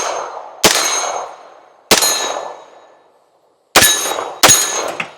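9mm bullets from a Daniel Defense pistol-caliber carbine strike steel targets outdoors, giving four sharp metallic clangs. Each ring decays over about a second, and the last two hits come close together.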